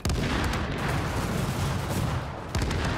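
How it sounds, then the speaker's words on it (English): Seeker mines exploding in a video game, a dense continuous roar of blasts and gunfire-like rumble, loud and sustained with a brief lull before it resumes. "Yeah, you can hear the seeker mines."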